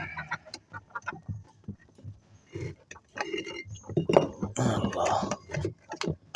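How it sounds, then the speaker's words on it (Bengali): Morning release of domestic chickens and ducks from their coop, with chickens clucking in bursts close by and growing busier toward the end, while a person talks and calls out over them. "তো এখন হাঁস মোরগগুলো ছাড়বো।"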